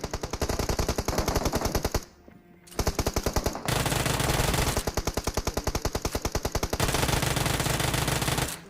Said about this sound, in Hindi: अब वहाँ से फायरिंग हो रही थी